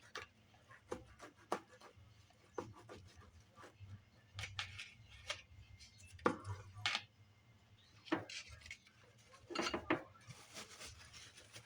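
A knife slices a tomato for a mayonnaise sandwich, with irregular soft cuts and knocks against a board and plate scattered over several seconds, faint and close.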